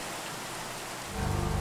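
Steady rain falls in a video game, a dense even hiss that swells louder and deeper near the end, heard alone with no voices.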